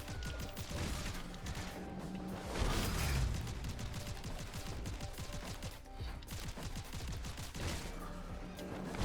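Angelic-bullet gunfire in the PC shooter Seraph, rapid repeated shots crackling steadily across the whole stretch over a busy, clattering game mix, with a heavier burst near the middle.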